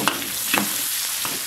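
Pork belly frying in a wok to render its fat, giving a steady close sizzle broken by a few stirring scrapes, with no talking.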